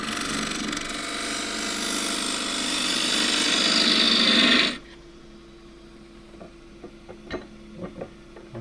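Spindle gouge cutting a spinning wood piece on a lathe, a loud rising rasping shear for about five seconds that stops abruptly, followed by quiet with a few light knocks.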